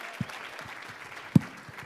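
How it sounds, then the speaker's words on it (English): Light audience clapping at a charity gala after a song, a thin scattering of claps with a couple of sharper, louder hits standing out. "Give Molly another round of applause"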